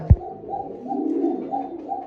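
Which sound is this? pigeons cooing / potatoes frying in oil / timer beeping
pigeons cooing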